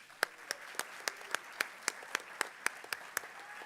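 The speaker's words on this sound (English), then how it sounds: "Please give them a round of applause." Sparse, slow clapping at a Sterling High School National Honor Society ceremony, about a dozen evenly spaced sharp claps from one or a few people, faint against a quiet room.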